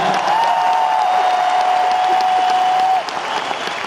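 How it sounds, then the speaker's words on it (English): Loud, sustained audience applause fills a concert hall at a show in Toronto, with a steady wash of crowd clapping and a held sustained tone over it that drops away near the end. "Please give me another huge round of applause for all that."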